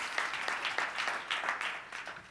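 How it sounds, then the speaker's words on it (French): Applause from an audience at a business association general assembly, a steady patter of many hands clapping at moderate volume, slightly distant and continuous. "Donc, je pense qu'on peut vous applaudir."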